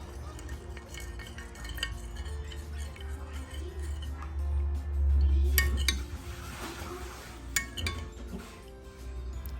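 Spoon clinking and scraping against a bowl while stirring coconut cream with a pinch of salt for cendol, a steady run of light taps and rubs close by, with a low hum underneath.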